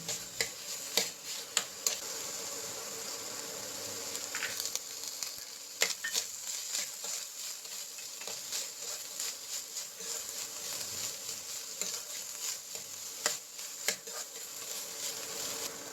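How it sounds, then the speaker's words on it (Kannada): Cauliflower, peas and tomato fry in a pan with a steady close sizzle and occasional ticks and scrapes from stirring, continuous throughout with no talking. "ಇವಾಗ ಫ್ಲವರು, ಬಟಾಣಿ ಮತ್ತು ಟೊಮೆಟೊನ ಹಾಕ್ಕೊಳ್ತಾ ಇದ್ದೀನಿ."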